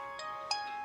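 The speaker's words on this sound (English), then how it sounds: "That's my phone." A mobile phone rings briefly with a bright electronic tone, two short chime bursts over a steady background hum, no talking.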